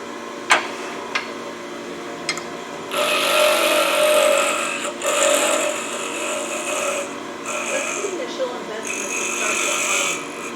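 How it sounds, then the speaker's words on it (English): Sanding a carved carrot-orange snowman nose at a craft demonstration: steady, buzzy abrasive rasping in long continuous passes after a few sharp taps, fairly loud and close, with brief pauses between strokes. "I'll sand the nose now before I make the little."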